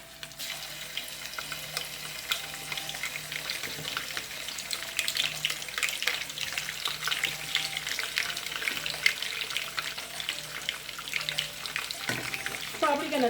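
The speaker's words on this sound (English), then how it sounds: "I'm just trying to fry these so they can get a little bit of color" Food frying in about a third cup of oil for a West African spinach stew, a steady bright sizzle and crackle that runs continuously, close up with little else heard.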